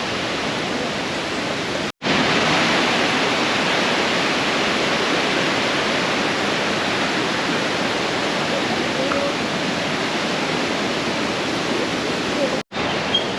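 Rushing waterfalls and river water in Krka National Park, Croatia, a loud, steady broadband roar that fills the whole stretch, with two brief dropouts near the start and end.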